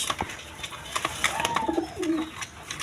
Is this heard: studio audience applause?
no